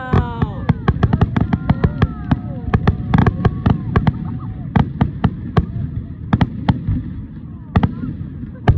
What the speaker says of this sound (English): Small explosions.